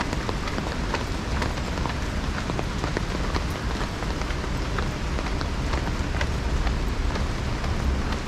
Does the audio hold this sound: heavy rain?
yes